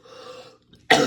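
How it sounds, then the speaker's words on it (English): A single harsh, close cough bursts out after a brief throaty sound and a moment of quiet. "God, this cough is going to kill me."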